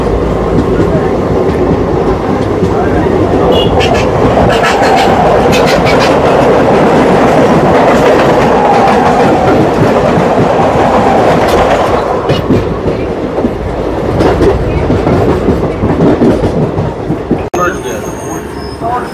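Howrah to Digha passenger train running at speed, heard from on board: loud, continuous rolling rumble with rhythmic wheel clatter and occasional metallic squeals, faint talk in the background.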